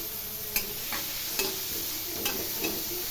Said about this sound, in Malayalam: ഇനി നമുക്കിത് വഴറ്റാം.